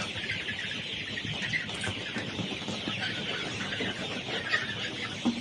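A large flock of layer pullet chickens on a poultry farm keeps up a dense, continuous murmur of clucking and chattering throughout, with no voices.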